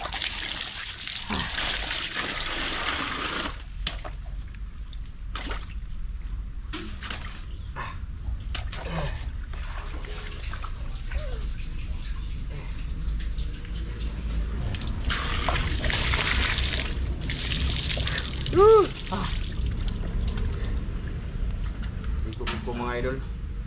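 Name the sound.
water pouring during a bath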